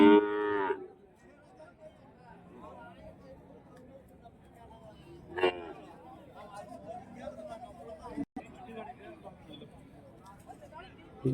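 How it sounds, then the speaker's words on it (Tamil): Cattle moo at a large cow market in Kuntharapalli, Krishnagiri district, with one loud, close low call at the start and another shorter call later, over a soft bed of crowd murmur. "இங்க வந்து மாடு எருத வந்து வச்சிருக்காங்க."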